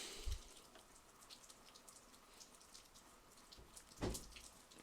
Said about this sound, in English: if you can hear the splitter splatter, it's raining